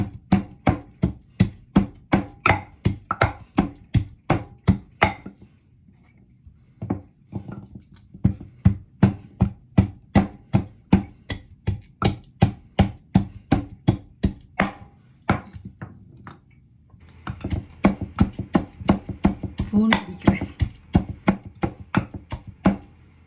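Garlic pounded for a country-style crab curry, a steady run of sharp, loud thuds close by, in rapid regular rhythm with two short pauses before it resumes.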